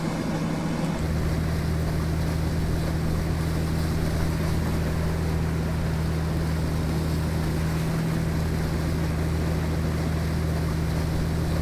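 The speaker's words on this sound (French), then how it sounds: "Donc on réactive le tugboat, on lui met une orientation full left et puis c'est parti." Tugboat towing a seaplane in Microsoft Flight Simulator, a steady loud engine drone with a constant low hum and washing water noise, unbroken for the whole stretch with no talk.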